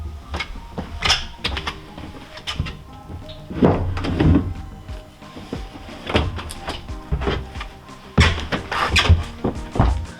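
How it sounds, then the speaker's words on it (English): Clips on a tri-fold hard bed cover for a Jeep Gladiator are undone and the panels opened, giving a string of close, loud plastic-and-metal thunks and clacks at irregular intervals, with no speech. "you can undo the clips and you can open the trifold for a dry fit"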